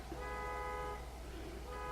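A continuous electronic horn tone drones steadily at moderate distance, from a car alarm by a church sounding without pause.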